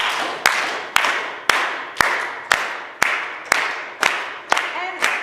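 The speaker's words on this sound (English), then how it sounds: "So first we're just going to clap a downbeat." A church congregation claps a steady downbeat together, about ten sharp, evenly spaced unison claps close by, each followed by a brief ringing decay in the room.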